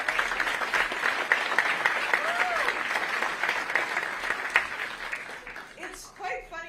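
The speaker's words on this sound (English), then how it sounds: "Just a round of applause" An event crowd applauds at a live Portland Thorns ownership introduction, giving a steady, sustained round of clapping at moderate distance, with a voice faintly audible beneath it.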